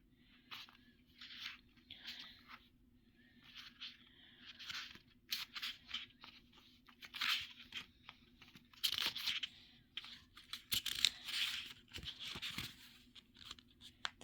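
Paper pages of a tarot book being flipped and turned, producing a series of soft crinkling and rustling bursts, some brief and some longer, close by and fairly quiet, with no talking.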